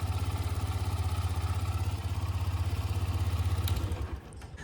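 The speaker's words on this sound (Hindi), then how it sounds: "एक्सट्रीम के साउंड में आप सुनेंगे ना इंजन से एक आपको खटर पटर की जो आवाज़ है वो भी सुनाई देगी" A Hero Xtreme 125R motorcycle engine runs steadily with a rapid, even pulsing beat and a mechanical clattering noise layered over it, close and loud, easing off near the end.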